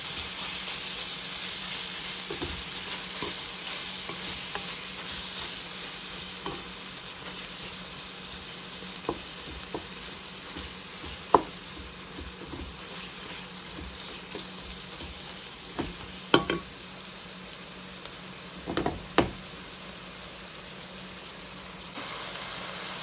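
Meat sauce for lasagna frying in a pan, a faint, steady sizzling hiss with scattered small pops and crackles and occasional soft stirring, no voices.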